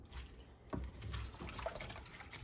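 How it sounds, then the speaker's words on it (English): Thick borscht is stirred in a pot, soft close wet sloshing and squelching with a few heavier thick-liquid movements, faint and continuous, no voices. "So I'm just going to stir this up."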